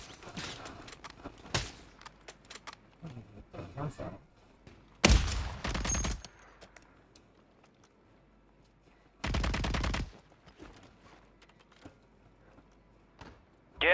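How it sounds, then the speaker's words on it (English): Bursts of automatic gunfire in Call of Duty: Warzone: loud rapid volleys arrive in separate clusters, with scattered single shots and quieter distant fire between them. "I'm taking fire!"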